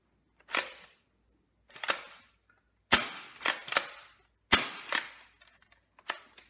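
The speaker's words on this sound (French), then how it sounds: "la trappe qui va reculer d'un quart quand vous allez réarmer la pompe" Pump racked repeatedly on a CYMA airsoft shotgun, a series of sharp plastic-and-metal clacks, some single and some in quick pairs, crisp and close with silence between strokes.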